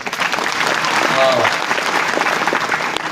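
Loud, sustained clapping from a kirtan congregation at a devotional singing session, the claps swelling slightly and continuing evenly throughout, with faint voices and a brief tonal note beneath.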